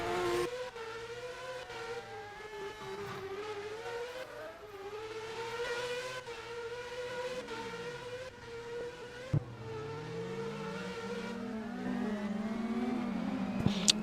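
A time attack race car at Sydney Motorsport Park climbs a hill under hard acceleration, its engine note rising and falling through gear changes, loud and continuous with a sharp pop near the end.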